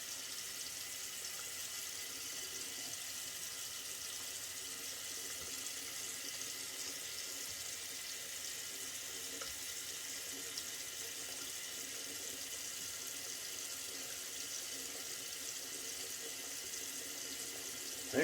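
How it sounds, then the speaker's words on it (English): Tap water runs in a steady, even hiss for the whole stretch as it wets a head before shaving, with no speech and a brief knock at the very end. "we'll give it a little water on here first"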